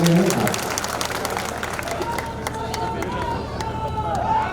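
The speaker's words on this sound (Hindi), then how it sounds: "ताली बजा दो" Crowd at a political rally in Sanwer, Madhya Pradesh, breaks into applause that starts loud and thins into scattered clapping and murmuring, with babble of voices throughout.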